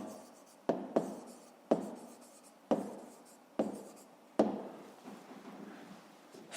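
Numbers written by hand during a fifth-grade maths exercise: a pen or pencil scratches on paper in a series of distinct strokes, each starting with a sharp tap and trailing off, close and quiet with no talk.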